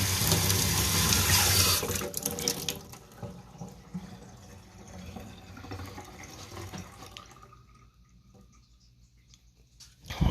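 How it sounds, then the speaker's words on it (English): Water runs from a tap to rinse a sewer inspection camera head, a loud rushing stream at first that drops to a softer gurgling trickle with drips, then briefly surges again at the end. "So I'm going to run some water,"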